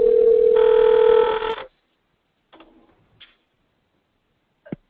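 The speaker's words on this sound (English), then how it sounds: "somebody's phone is ringing" Office telephone ringing during a board of directors training session, a loud steady electronic ring lasting over a second then cutting off, followed by a few faint clicks and a brief tone in an otherwise quiet room.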